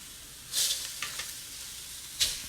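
Noodles frying in a wok outdoors for a Dungeness crab stir-fry, a continuous sizzle with a couple of louder hissing bursts as they are tossed and stirred.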